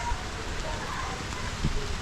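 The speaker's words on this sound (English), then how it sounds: "the rain is coming down" Rain pours down outdoors near a mountain where food is cooking over an open fire, a steady close hiss of falling drops lasting throughout with no talking.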